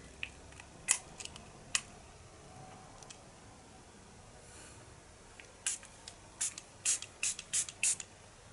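Revolution Superfix Superhold Ultra Matte setting mist bottle giving short separate spritzes: two or three at first, then a quicker run of about six pumped sprays, close and crisp against a quiet room.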